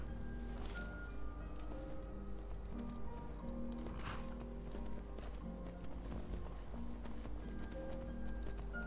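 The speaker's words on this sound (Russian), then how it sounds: "И опять моя лошадь." A horse gallops in the fantasy video game Skyrim: rapid, steady clip-clop hoofbeats run throughout over a low game ambience, with an occasional snort or whinny.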